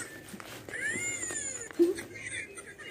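A house cat meowing close by at dinnertime: a drawn-out rising-and-falling meow, followed by a shorter lower cry, over a faint background murmur and clatter.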